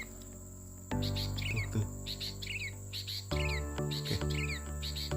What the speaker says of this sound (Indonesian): Di sini banyak burung kutilang.